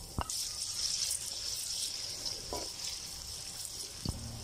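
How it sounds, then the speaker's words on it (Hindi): Chopped garlic frying in a pan alongside golden onions, a soft steady sizzle with a few sharp clinks of a spoon against the pan, fairly quiet and without talk. "अब लहसुन को थोड़ी देर भून लेते हैं ताकि इसकी स्मेल ख़त्म हो जाए"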